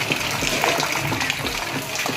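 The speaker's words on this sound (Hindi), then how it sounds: "ज़्यादा बारिश है संगवारी रात भर गिरे हैं" Heavy rainwater runs and gushes steadily after a night of downpour, a continuous close wash of flowing water with no pauses and no voices over it.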